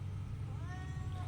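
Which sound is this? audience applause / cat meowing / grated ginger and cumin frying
cat meowing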